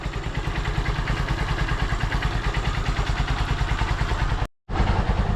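A Honda Supremo motorcycle engine idles steadily after firing up with two kicks, its close, rapid, even putter and clatter running without a break except for one brief cut-out near the end.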